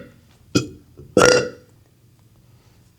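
Two loud burps from a person, a short one followed by a longer, drawn-out belch, heard up close with little else around them.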